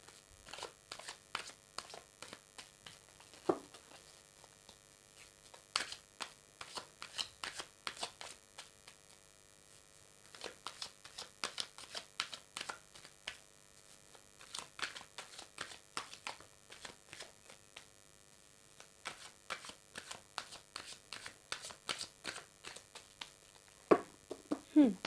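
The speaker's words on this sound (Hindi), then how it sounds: "तो पहले हम कार्ड्स को जो है पुल कर लेते हैं, निकाल लेते हैं" Tarot cards are shuffled by hand in repeated bursts of soft riffling and flicking, close and quiet over a faint electrical hum, with occasional pauses between bursts.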